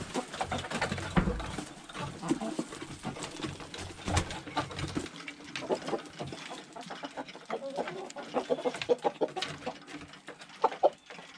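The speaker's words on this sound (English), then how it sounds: "Chickens are anxious to get out." Chickens clucking and murmuring in a muddy run on a farm, a continuous busy chatter of several birds at moderate distance with occasional louder calls.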